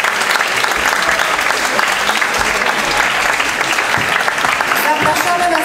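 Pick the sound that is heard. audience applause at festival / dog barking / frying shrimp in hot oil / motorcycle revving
audience applause at festival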